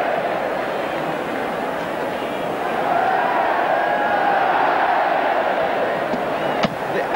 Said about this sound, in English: The Ellen Road crowd are lapping it up.